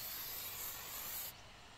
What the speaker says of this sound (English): we are going to spray a little into the top and paint the inside of the control cavity